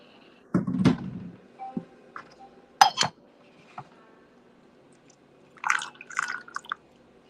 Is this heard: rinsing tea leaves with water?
yes